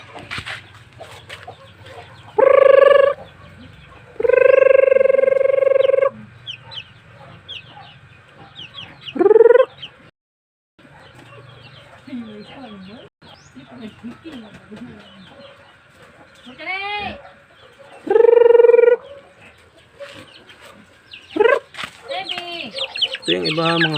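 Pet Hulo Basilan chickens call out in a series of loud, drawn-out crows and squawks, about five strong bursts spread over the span, with softer clucking and farmyard murmur filling the gaps between them.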